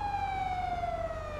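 A police car siren in the video game GTA V wails steadily with a slowly falling pitch, loud and continuous over a low engine rumble, with no voices.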